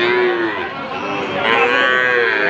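Two Nepali Gir bull calves at a cattle market moo loudly and steadily up close in one long, continuous bellow, with faint crowd chatter underneath.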